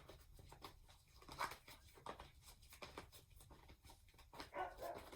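A dog barks and yips in short, uneven bursts, fairly close, with a few whimpery high notes between them.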